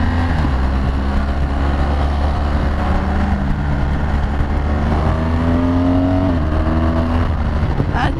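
A BMW R1200GS-A K51 boxer-engine motorcycle accelerates hard into a wheelie, its loud, close engine drone climbing steadily in pitch with rushing wind noise, while a voice speaks briefly.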